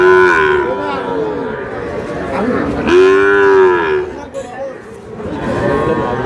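A bull calf moos repeatedly at a busy cattle market, with several long, drawn-out calls that swell and fade against steady crowd chatter and nearby voices.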